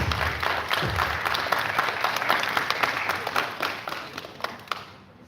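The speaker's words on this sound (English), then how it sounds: "A round of applause for Bhuvan, please." Audience applause for a participant on the final day of a residential space camp, a fairly soft, steady patter of many hands that gradually thins out and stops.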